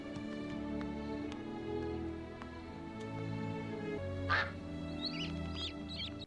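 A duck quacks in a scene from the animated film Lilo and Stitch: a short burst of quacks near the middle, heard over a soft sustained musical score.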